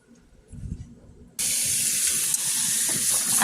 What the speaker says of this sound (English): Now I'm just running it under some cold water to rinse off any of the lime juice and salt residue